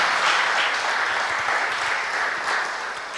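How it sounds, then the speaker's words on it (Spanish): Church congregation applauding loudly in a steady, dense burst of clapping that fills the room, holding strong before easing slightly toward the end. "Dele un aplauso al Señor,"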